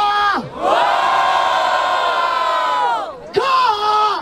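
Crowd at a Brazilian freestyle rap battle in Barueri roars and cheers loudly in a sustained wave, dips briefly, then swells again, with no talk over it.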